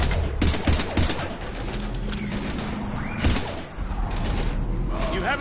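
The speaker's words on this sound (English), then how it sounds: "We're taking heavy fire." Heavy gunfire in the Mass Effect 3 video game, dense bursts of shots and mechanical clatter close by, with a voice partly mixed in.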